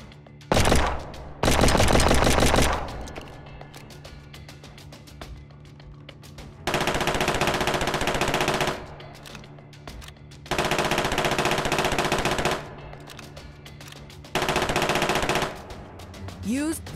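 Automatic gunfire from behind cover in the mobile shooter Project War, loud rapid bursts repeating several times with short pauses between them, close and dominant.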